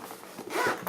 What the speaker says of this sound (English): Nice zipper, easy to open.